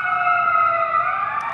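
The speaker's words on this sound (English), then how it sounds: "That's the second time we heard the ambulance, ain't it?" An ambulance siren wails outside with a steady, sustained tone that slowly bends in pitch, fairly loud and continuous over the short span.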